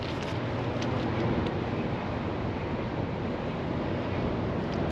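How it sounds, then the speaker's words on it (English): Strong wind roars steadily and loudly across the microphone outdoors in Van Horn, Texas, just after a storm has passed, a continuous broadband rush with no speech. "it's pretty windy"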